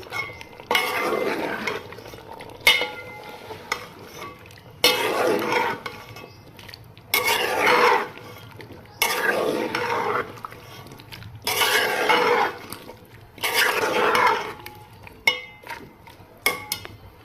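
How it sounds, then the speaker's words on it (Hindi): Pumpkin stirred into chicken curry in a pot, a spoon scraping and clattering against the metal in repeated bursts of a second or two with short pauses between, close and fairly loud, no voices. "अब हम इसमें डाल देंगे कद्दू की सब्ज़ी। इसको हम अच्छे से मिक्स कर लेंगे।"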